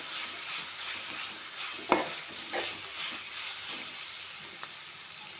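Sliced onions with turmeric powder fry in a pan for beef curry, giving a steady, close sizzle with a few brief stirring scrapes and clicks and no talking.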